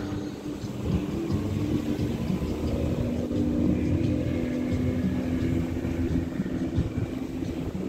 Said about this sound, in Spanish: Vemos la rapidez que llevan las lanchas ahí.